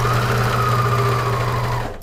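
A sewing machine stitches fur fabric for a dog jacket, giving a steady, close mechanical whir with a rapid needle rhythm that runs continuously and then winds down at the end.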